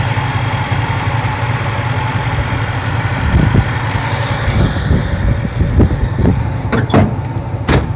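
A 1992 Cadillac Seville STS engine runs steadily up close, a loud continuous rumble, with a few sharp clicks and knocks near the end and no talking.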